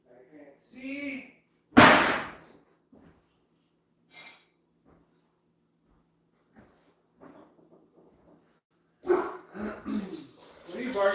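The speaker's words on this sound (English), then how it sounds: "What are you barking for?" A dog gives a single loud, sharp bark in a quiet workshop, and a few short sounds follow after it. Someone talks at the start and again at the end.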